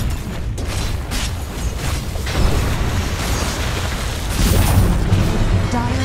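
A tower is destroyed in a Dota 2 match, shown by heavy booming crashes and rumbling blasts that come in bursts over busy game battle noise.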